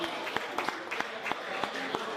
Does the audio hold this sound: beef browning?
no